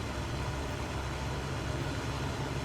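Steady drone of a Cessna Skyhawk's piston engine in Microsoft Flight Simulator 2024 on PS5, running at about 2050 rpm in cruise, a continuous even hum with no talk over it.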